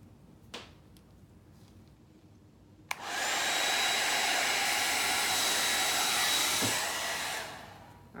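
After a few faint knocks, a hair dryer switches on abruptly and blows a loud, steady rushing stream over an acrylic Dutch pour for about five seconds, then cuts off.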